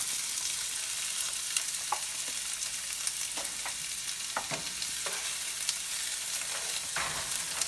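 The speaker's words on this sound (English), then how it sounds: "put them into the pan to go ahead and get them till they're translucent" Pre-cut onions sizzle in a pan with a continuous moderate hiss, broken by intermittent spatula scrapes and soft clacks as they are stirred, close and without talk.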